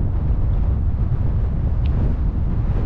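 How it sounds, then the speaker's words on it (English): Strong wind buffets the microphone outdoors during a speed run of an HPI Maverick RC car, a steady low roar filling the whole stretch with no speech. "It's super windy out here now."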